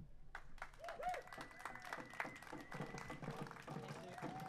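Outdoor climate rally crowd applauding a speaker, with dense clapping and scattered cheers and voices mixed in, fairly distant and sustained throughout.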